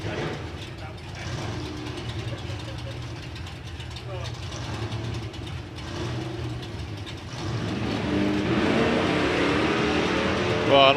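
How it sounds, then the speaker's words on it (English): Drag racing car launching wheels up at a nostalgia drag strip event as its torque converter hooks up, a loud engine rumble building and surging toward the end, with commentators talking over it throughout. "a nice cheeky wheels up launch there for Rob Torrington as the torque converter really hooks up and goes"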